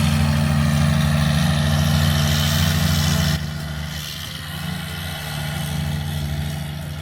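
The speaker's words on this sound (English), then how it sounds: "somewhere among all that greenery, is the John Deere, slugging away with Graham at the controls." A John Deere mower engine runs steadily on a country club's grounds, a constant low mechanical drone with a strong hum that drops in level partway through and carries on more quietly.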